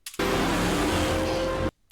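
A car, driven by Wally in a scene from The Flash, roars past in one short burst of engine and tyre noise that starts and cuts off abruptly.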